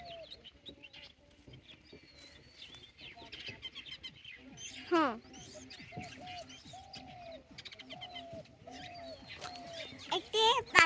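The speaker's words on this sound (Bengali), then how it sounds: "কিন্তু এই যে ঘুঘুর ডাক পাচ্ছি।" Dove cooing among birds chirping around Chairman Lake in Lama, Bandarban, repeated low coos and scattered tweets at a distance, with a voice talking over them.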